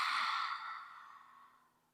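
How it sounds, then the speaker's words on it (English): A yoga lion's breath: one forceful, airy exhale through the open mouth, close and breathy, starting strong and trailing off gradually over about two seconds. "Lion's breath."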